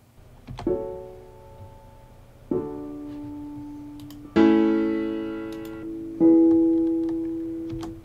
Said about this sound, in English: we have a low pass filter with the cutoff at 1K